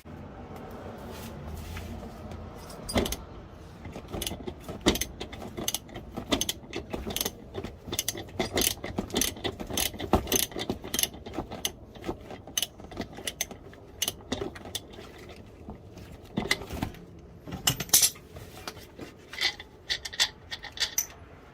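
Steady rapid clicking of a hand ratchet unscrewing a bolt on a car's air-conditioning part, close up, in long runs with brief pauses and occasional metallic clinks.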